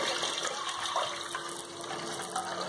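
Tamarind water poured from a vessel into a cooking pot for Tirunelveli-style fish curry, a steady close splashing, gushing flow that runs unbroken for a few seconds with no voices.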